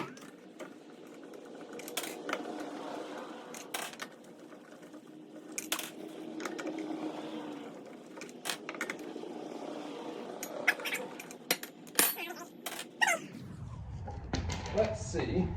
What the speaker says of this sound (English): let's finish getting these lug nuts off